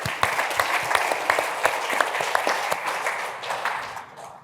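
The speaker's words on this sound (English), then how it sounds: "I want you guys to give yourselves a round of applause." Audience at a 614Startups live event giving themselves a round of applause, brisk crowded clapping with crisp individual claps near the front, holding steady before fading out in the final second.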